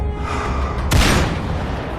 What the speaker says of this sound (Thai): เสียงปืนได้ดังขึ้นมาอีกครั้ง